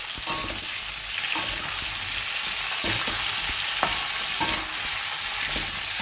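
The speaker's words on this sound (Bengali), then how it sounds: "এবারে আমি কাঁচকলা পেঁপে আলুটা দিয়ে দিলাম এটা ভাজা ভাজা করে দেবো" Raw banana, papaya and potato pieces fry in hot oil in a pan, giving a steady close sizzle broken by repeated clattering stirs of a spatula.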